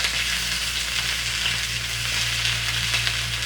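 Jerk chicken sizzles steadily in a hot wok, a dense, even crackle of fat and juices with no breaks, close and loud, with no one speaking.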